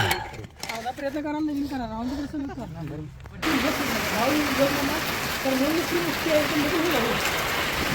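Heavy rain pours steadily on a farm, a dense hiss that is close and constant through the second half, following a stretch of someone talking over a softer patter.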